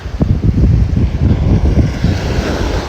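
Surf washing onto a non-white sand beach, the waves rumbling loudly and continuously with gusts of wind noise buffeting the microphone throughout.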